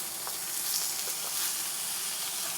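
Wild salmon sizzling and frying in a stainless steel pan, a steady close hiss of crackling oil with small spits and pops running throughout, no voices.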